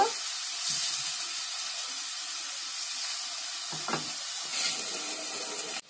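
Onion and tomato paste frying in oil in a pan for a Konkani-style thali, a steady soft sizzle throughout with a couple of brief stirring scrapes and bumps near the end.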